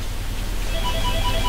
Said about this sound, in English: Sorry if you can hear the phone ringing